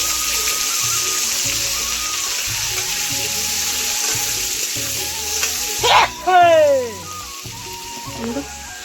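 Cut potatoes dropped into hot oil for a home-cooked dish, a steady loud sizzle with a brief clatter and stirring noise partway through.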